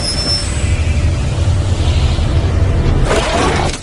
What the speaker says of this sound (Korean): 예정이 없던 기차가 들어왔는데